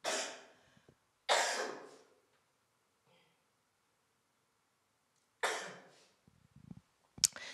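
Several harsh, lingering post-COVID coughs in separate bursts, close and fairly loud, with long quiet gaps between them and a few sharper coughs near the end, during a lecture.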